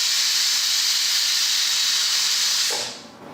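Loud, steady steam hiss from a pressure cooker whistle while mutton kulambu cooks, sustained for about three seconds before it tapers off and stops.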